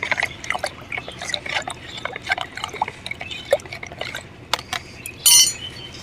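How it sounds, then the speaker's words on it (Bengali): Water is poured from a mug onto a potted bougainvillea, heard as a close, uneven trickle and splash with small clinks and knocks, ending in a brief louder gush. "এই যে মগে জল, যে পরিমাণে জল লাগে সেই হিসাবে জলটা দিয়ে দিতে হবে।"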